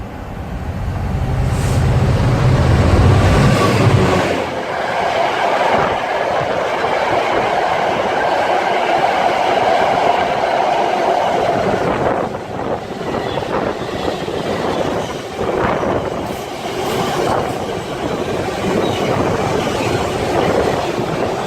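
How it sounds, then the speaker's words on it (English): GBRF freight train 4Z33 from Felixstowe to Doncaster passes through Needham Market station on the Great Eastern Main Line, loud and close, with a steady roar and rhythmic clatter of wagons rolling by throughout. "now getting ready to pass by is 4 Zulu 33 from Felixstowe to Doncaster."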